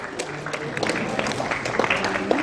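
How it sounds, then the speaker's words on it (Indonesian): Applause from an audience at an evening stage event at Jakarta Doodle Fest 2023, a dense patter of many hands clapping at moderate volume, with voices mixed in underneath. "Boleh tepuk tangannya teman-teman semua."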